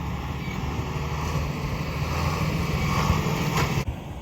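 An old John Deere-style 4000 tractor engine runs steadily on a farm while manure is piled for spring field work, a constant low rumble with some wind noise and no talking.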